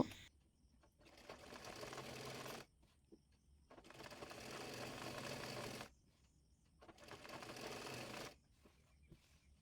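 Three bursts of rapid sewing machine stitching on a hijab, each running about two seconds with short quiet pauses between them, close and clear.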